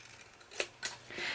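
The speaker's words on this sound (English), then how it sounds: "let's take another strip and just cut it to the same length" Scissors cut a paper strip for a scrapbook mini album: two or three soft, close snips with brief rustle, quiet and without talk.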